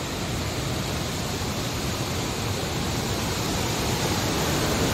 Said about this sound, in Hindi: और ये देखिए झरना कितना सुंदर